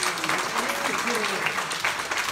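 Audience applause at a school performance by the Instituto Alma Mixteca, a steady wash of clapping throughout with harmonic tones, likely voices or music, running beneath it.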